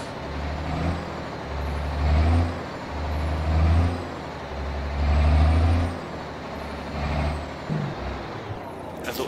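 A heavy truck in Euro Truck Simulator 2 rumbles at low revs, its engine swelling and easing in repeated surges, with hissing air brake releases near the end.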